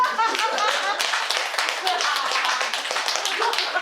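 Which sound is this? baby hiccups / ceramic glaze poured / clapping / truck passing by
clapping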